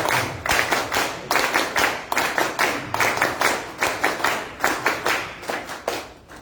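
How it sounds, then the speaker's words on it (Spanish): An audience at a technical team gathering claps for Jorge Villasante, a former labor minister, in strong rhythmic unison, steady even beats repeating for several seconds, close and loud with no talking. "Compañeros, unas palmas para él"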